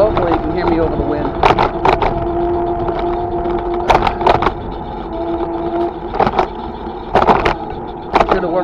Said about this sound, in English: Hopefully, you can hear me over the wind.